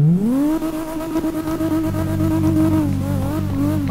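A 900 HP BMW E34 M5 in the CarX Drift Racing Online game revs loudly and continuously, its engine pitch climbing at first then holding high with small rises and dips, close up and with no talking.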